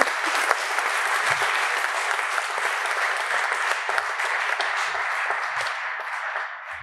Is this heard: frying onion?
no